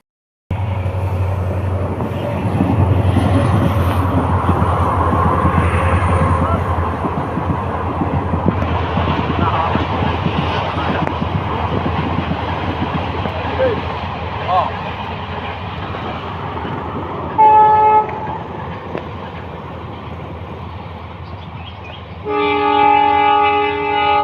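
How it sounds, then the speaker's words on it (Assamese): A passing train rumbles steadily past for most of the stretch, with loud horn blasts sounding near the end; a person talks over the rail noise. "আৰু এইফালে ট্ৰেইনো আহিব হৈছে"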